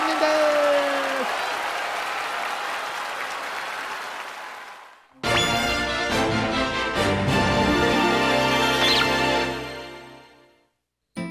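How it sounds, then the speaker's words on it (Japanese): Audience applause at an anime stage event, a steady crowd clapping for about five seconds, then a short break followed by loud music with the clapping carrying on over it and fading near the end. "もう一回大きな拍手をお願いします。"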